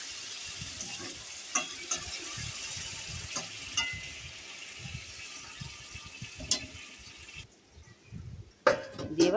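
Lentil nuggets (bori) sizzle in a hot pan while being stirred, with a steady frying hiss and repeated scraping and clinking of a spoon against the pan.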